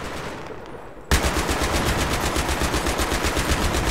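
Sustained rapid bursts from a mounted machine gun in the shooter game Battlefield 3, loud and close, kicking in abruptly after a second of quieter ambience and hammering on steadily to the end.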